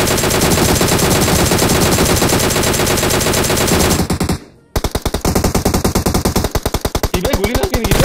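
Rapid automatic gunfire in PUBG Mobile, loud and close, with dense bursts of shots, a brief silence partway through, then another sustained string of rapid shots under faint talk.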